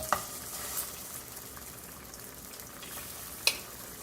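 Plantain frying in hot oil for Jamaican cooking, a faint steady sizzle with soft hiss and a couple of brief clinks, no talking.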